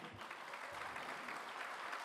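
An audience at Shashi Tharoor's reception in the California Bay Area claps in a steady burst of applause, heard faintly from a distance.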